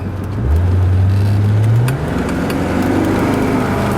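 Mercedes-Benz 450SEL 6.9 W116 saloon on the road, engine droning steadily, then the tone dropping as the car eases off and slows, close and alone with no talk.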